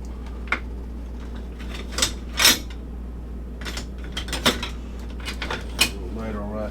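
A ladle clinks and scrapes against a pot while stirring chicken noodle soup, a handful of sharp metallic knocks scattered over a steady low hum, close and fairly quiet.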